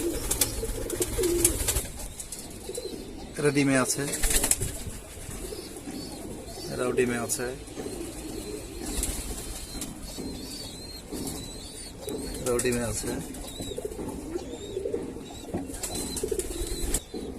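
Domestic pigeons coo softly in a home loft with chicks, with occasional wing flaps, while someone talks over the birds throughout.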